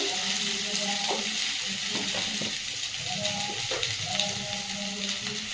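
Potatoes and greens stems sizzle and fry with turmeric in a pan at home, a steady crackling hiss with occasional stirring clinks and scrapes, close and continuous.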